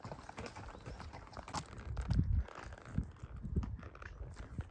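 Hooves of a ridden horse clip-clopping along a dry canyon trail in Salt Horse Canyon, Arizona, in August, a steady close rhythm of soft thuds and crunches with no voices.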